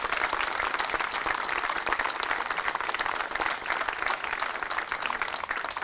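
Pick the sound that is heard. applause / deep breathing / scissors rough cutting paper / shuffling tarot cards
applause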